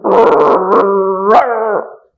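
A voice imitates two dogs barking and fighting at once, a loud, sustained, snarling howl-like cry with a sharp bark near the end, close and alone.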